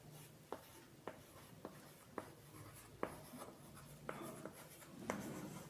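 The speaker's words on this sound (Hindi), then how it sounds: "लिख लेते हैं थोड़ा सा।" A teacher writes notes during a science lesson: faint, regular scratchy strokes land roughly every half second over a low, hushed room background, with no one speaking.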